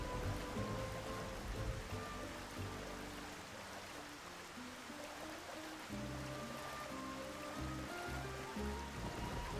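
Steady rain hisses continuously in Xenoblade Chronicles: Definitive Edition, with a rushing, stream-like wash, and faint tonal music sits underneath throughout.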